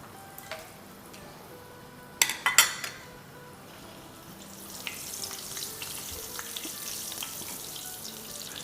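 Whole spices fry in oil: bay leaf, a piece of cinnamon, clove, green and black cardamom. A few clattering stirs come partway through, and then a soft, rising sizzle builds and continues.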